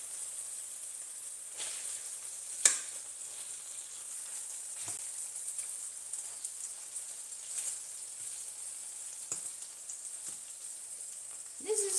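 Chicken for a spruce sauce dish fries quietly in a pan with a steady faint sizzle, broken by occasional crackles and a sharp tap as a piece is flipped.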